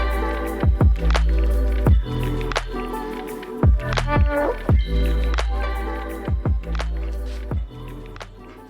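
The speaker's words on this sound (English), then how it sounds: "let this basically drain out all the way" Power steering fluid drips from a removed steering rack on a 1JZ-swapped 240SX, with drops landing one by one at an irregular rhythm in a quiet garage, close and distinct.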